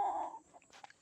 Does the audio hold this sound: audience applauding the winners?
no